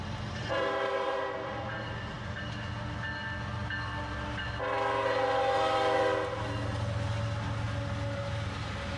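A northbound steel coil freight train led by two GE locomotives rumbles past, with two long sustained horn blasts over a steady low engine drone and rolling rail noise.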